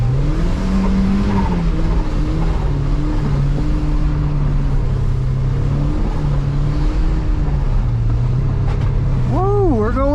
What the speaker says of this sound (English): Hanging these drifts.